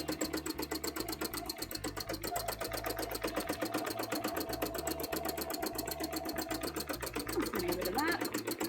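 A sewing machine stitching with yellow thread while a cosplay costume is being made, running at a fast, steady mechanical rattle from start to finish, close and continuous, with a person talking over it.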